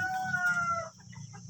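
Village chickens in a coop make close clucking calls, a drawn-out vocal note first, then softer scattered clucks.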